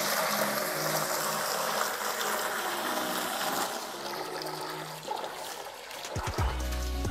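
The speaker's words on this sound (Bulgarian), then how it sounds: "Първата от нашите 2 кофи пълним с чиста вода." Water pours and splashes steadily into a bucket, then the flow changes and ends with a few hollow knocks and thuds.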